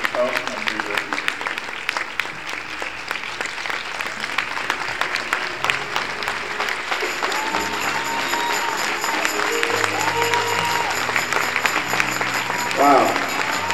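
A church congregation at a cathedral worship centre's tenth-anniversary celebration applauds loudly and steadily, the clapping sustained throughout with voices and cheering mixed in.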